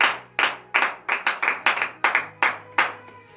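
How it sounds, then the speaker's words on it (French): Hands clap in a fairly steady rhythm during a morning prayer service, about a dozen crisp claps close by, with no voices or cheering. "Donnez de vives acclamations à cette parole."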